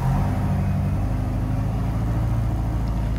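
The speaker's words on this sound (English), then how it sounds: "A very rough idle on this first start." A 1969 VW Type 3 Squareback with an automatic transmission idles roughly on its first start, a loud, close, continuous engine rumble with an uneven low throb and no voices.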